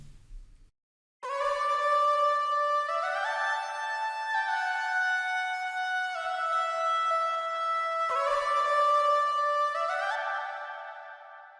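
A sustained sung vocal line drenched in long reverb, notes smearing together and a lingering tail fading after the final note.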